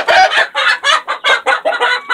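Chickens cluck loudly and close by in a rapid series of short, choppy calls, one after another with no other sounds.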